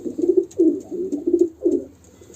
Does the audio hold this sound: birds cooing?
yes